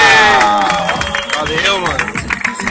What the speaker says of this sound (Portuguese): Eu quero uma salva de palmas também pro Hélio Furukawa.